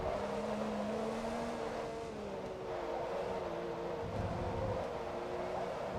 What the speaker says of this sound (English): My rev limiter says hi.